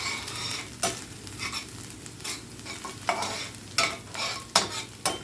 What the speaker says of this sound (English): I'm going to just stir this around. Try not to let it get burnt.